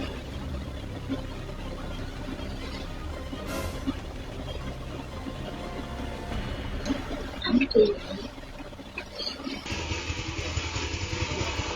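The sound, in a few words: motorcycle riding, rock falls and crushes it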